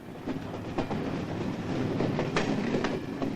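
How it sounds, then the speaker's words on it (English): A Hungarian state railway train of around 1980 rolls past with a steady low rumble, and wheel clacks tap out at irregular intervals over the running noise, moderately distant, with no voices. "Magyar Államvasutak, the Hungarian state railway, brings them from the border in their thousands"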